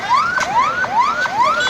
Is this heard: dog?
no